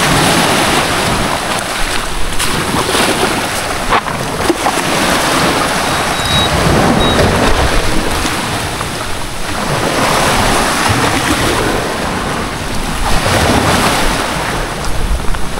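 Sea waves wash loudly and continuously along the shore at night, mixed with heavy wind buffeting the microphone, with no voices.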